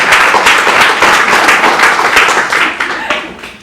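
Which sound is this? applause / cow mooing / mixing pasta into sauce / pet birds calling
applause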